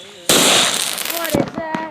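New Year fireworks burst suddenly into a loud crackling roar, followed by a few sharper pops, while people's voices can be heard reacting beneath the explosions.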